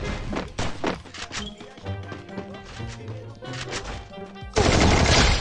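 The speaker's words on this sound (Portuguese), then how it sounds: "Tá sendo tiro." Bursts of gunfire in a shooting video game, rapid cracking shots in clusters that end in a sustained loud barrage, with game music and effects underneath.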